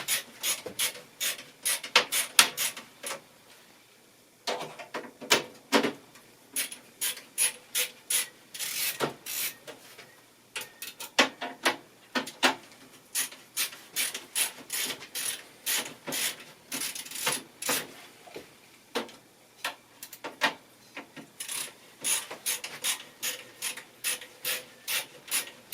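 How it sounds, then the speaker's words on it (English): Four screws are backed out of a server's CPU heatsink, giving many quick ratcheting clicks in bursts. The turning repeats with brief pauses over the whole stretch, close and crisp. "Now let's remove the CPU heatsink."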